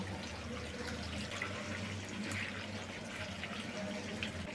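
Running water rinses chopped onions rubbed with black salt in a home kitchen, a steady, fairly loud splashing wash with no talk.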